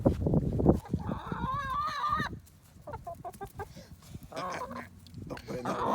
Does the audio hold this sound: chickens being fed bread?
yes